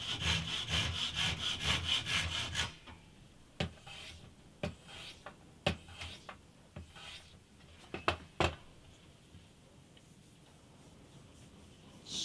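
Hand saw cutting a narrow spruce strip down to size for filling old bridge pin holes on an antique parlour guitar: rapid close rasping strokes at first, then scattered single scrapes and ticks, alone.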